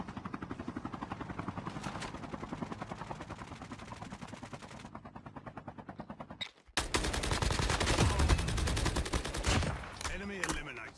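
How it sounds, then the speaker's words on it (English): A Call of Duty helicopter thumps with a steady rotor chop, first quieter under rapid gunfire, then suddenly louder and nearer as heavy automatic fire and explosions break out. "Helicopter."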